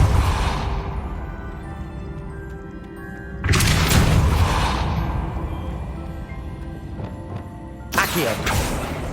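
Depulso spell blasts in Hogwarts Legacy: two loud, sudden broadband bursts, each booming and then decaying into a rumble, separated by a few seconds of busy game sound with a voice.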